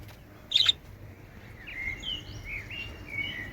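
Birds in an enclosure give a sharp burst of chirps, then a scattering of softer twittering calls over quiet background noise.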